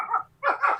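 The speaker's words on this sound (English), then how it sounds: "Sounds like a Swedish dog." A pet dog barks close by, one short woof followed by a longer double bark, with no voices over it.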